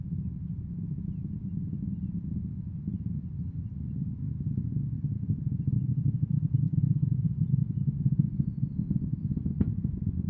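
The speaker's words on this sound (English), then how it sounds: "Throttling back up on the BE4 engines." Blue Origin New Glenn rocket's BE-4 engines roaring in flight during launch, a steady, deep rumbling drone with crackling texture, heard distant and continuous with no talk over it.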